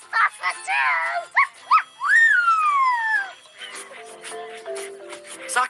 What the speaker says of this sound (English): Socks mostly communicates through barking.